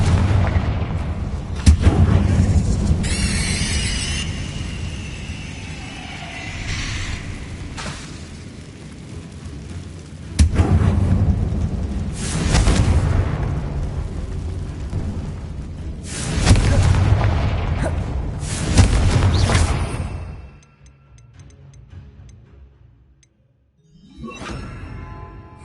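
Confringo blasting spells exploding in the video game Hogwarts Legacy, a run of heavy booming blasts with rumbling tails, loud and close, spaced a few seconds apart, then a quieter stretch at the end.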